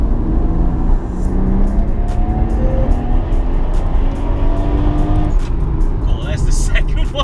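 A twin-turbo 2JZ engine in a Toyota Supra MK4 rumbles deeply and climbs in pitch as it accelerates, heard from inside the car with road noise and people talking over it.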